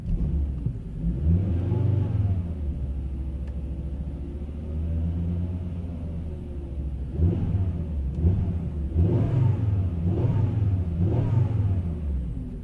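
A Volvo S60 engine idling, a steady close low rumble with a few gentle rises in engine speed toward the end, alone without talk.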